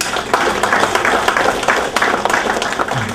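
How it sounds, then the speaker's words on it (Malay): An audience of UMNO headquarters staff and youth wing members claps at an evening political forum, dense close applause with distinct sharp hand claps throughout, alone and fairly loud. "beri tepukan"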